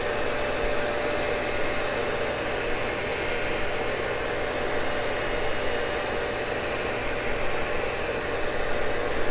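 A heavy Cincinnati tool and cutter grinder with a coarse wheel grinds a Morse taper, giving a steady hissing, whooshing drone with a faint high whine, constant and close with no talk.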